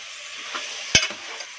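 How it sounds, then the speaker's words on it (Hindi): Chicken frying in a karahi for black pepper chicken karahi, a soft continuous sizzle with a few stirring scrapes and one sharp clack of a utensil near the middle. "अच्छी तरह से हमें फ्राई करना है।"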